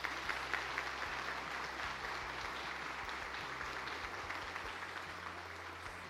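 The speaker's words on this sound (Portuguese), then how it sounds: "Vamos aplaudir ao Senhor." A church congregation applauds together in sustained, steady clapping, fairly loud and dense throughout, with faint voices underneath during a Father's Day celebration service.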